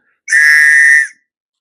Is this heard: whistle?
yes